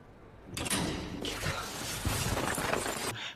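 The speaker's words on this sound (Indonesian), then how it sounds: "terdengar suara Ivan membuka pintu" A door opens in a film scene, a short broadband rush of movement and a dull thump standing out against the quiet room tone, then falling away.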